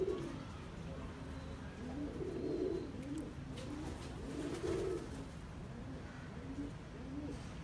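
A pigeon coos softly and repeatedly at close range, throaty rolling calls in a loose rhythm of bursts over quiet background noise.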